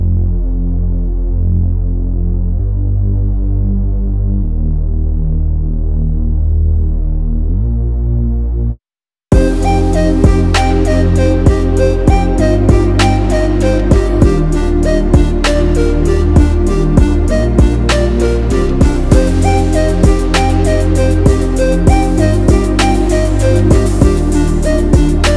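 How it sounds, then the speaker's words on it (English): Reese bass patch built in the Vital synthesizer: a thick, throbbing low drone plays alone in sustained phrases, cuts out briefly, then returns fuller and brighter under a busy beat with crisp percussion. "how to make this simple yet effective Reese bass in Vital"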